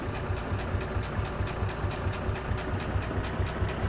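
A steady, rumbling tractor engine idles with a regular low throb, close and continuous with no talk: an Ursus tractor starting up in the Farm Simulator 2013 video game.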